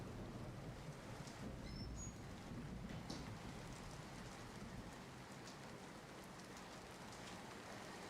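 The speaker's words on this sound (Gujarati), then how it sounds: "રાવલ સહિત પાનેલી અને ટંકારિયા સહિતના વિસ્તારોમાં વરસાદી માહોલ જામ્યો છે." Heavy monsoon rain pours steadily across open ground in coastal Gujarat, a dense continuous hiss of drops drumming on surfaces, moderately distant and unbroken with no voices.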